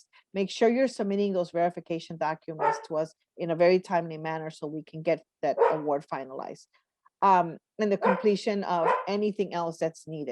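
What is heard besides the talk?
dogs barking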